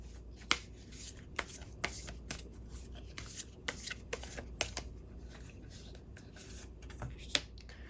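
Tarot cards shuffled and handled in short bursts, crisp riffling and snapping flicks repeating irregularly, close and fairly quiet with no talking.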